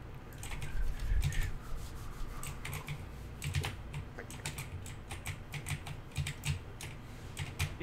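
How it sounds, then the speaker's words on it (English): Rapid computer keyboard typing, a steady run of close, crisp clicks with irregular bursts and a few heavier keystrokes, over a low background hum with no talking. "Excuse me, I can hear your keyboard."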